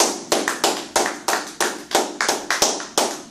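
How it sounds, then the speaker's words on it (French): A church congregation claps in a steady, even rhythm of sharp, close hand claps, about three per second, with no voices over it. "Acclamons Jésus."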